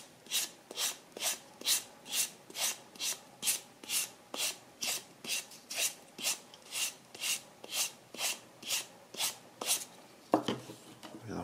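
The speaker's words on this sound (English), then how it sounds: "And I sand it with 500 grit sandpaper." Shell cordovan leather edge sanded with 500 grit sandpaper: steady back-and-forth rasping strokes, about two per second, close and fairly quiet, with no talking.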